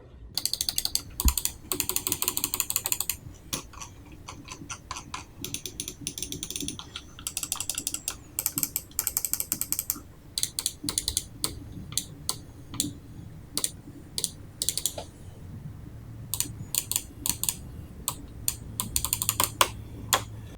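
Rapid, crisp clicking in irregular bursts, close and dry, from the side buttons of a G-Wolves Hati gaming mouse being pressed repeatedly, with no talking.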